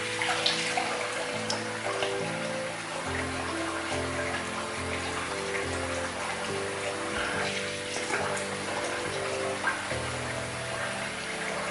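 Tap water running steadily while rinsing off after a wet shave, a continuous splashing wash heard close and alone with no talk.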